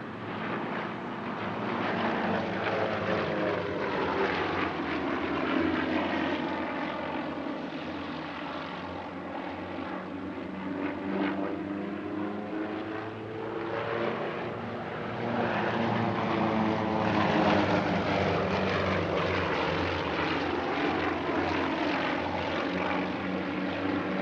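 Six propeller aircraft flying a formation display at the Air Legend airshow in Paris-Villaroche, a loud continuous droning engine roar that swells and fades with passing, steady throughout with no talk.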